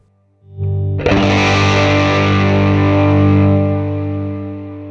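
An electric guitar plays through a Fender Mustang GT amp with the gain turned all the way up and delay placed last in the chain: a single heavily distorted chord rings out loud and close, its repeats trailing off slowly.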